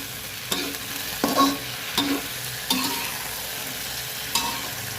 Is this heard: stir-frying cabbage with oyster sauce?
yes